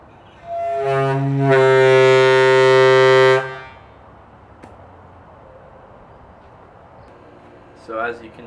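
A homemade compressed-air ship horn, fed from a compressor at about 70 psi, blasts one loud, deep, steady note for roughly three seconds before cutting off, leaving quiet garage background and a brief noise near the end.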